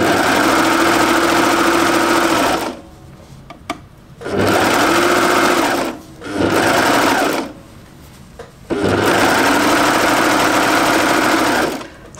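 A sewing machine stitches a knit jumpsuit in steady, loud bursts of fast mechanical whirring. Several runs of a few seconds each are separated by brief quiet pauses, with no talk over the sound.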